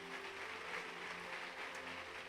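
Sustained church congregation applause for Jesus during a Portuguese-language sermon, a steady dense wash of many hands clapping at moderate distance with no talk over it.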